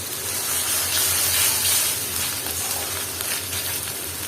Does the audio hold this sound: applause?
no